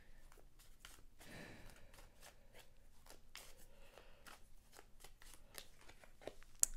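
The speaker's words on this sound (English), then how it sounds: "So let me pull one of these cards here." Tarot cards shuffled and pulled from a deck, with soft riffling and sliding bursts and sharp flicks in an uneven rhythm, close and quiet.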